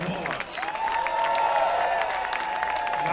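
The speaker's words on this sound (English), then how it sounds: "Actually, give them a loud round of applause." Large outdoor crowd at a New York City Tax Day tea party rally claps and cheers in a dense, sustained wash, with a whistle-like tone running through the middle and voices mixed in.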